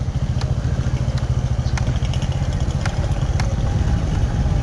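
A motorcycle engine idles on a rough, wavy road, a steady low throbbing putter with rhythmic pulses and occasional sharp clatters and knocks, close and fairly loud with no talk.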